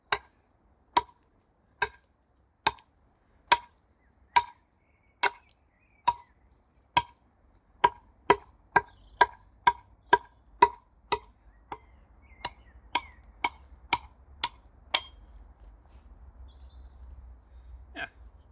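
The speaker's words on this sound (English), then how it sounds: "the noise I'm making with the axe is going to be louder than my voice" Axe chops striking a log being shaped into a Viking Age club, a long series of sharp woody impacts at a steady, gradually quickening rhythm, close and clear, with faint low rumble behind.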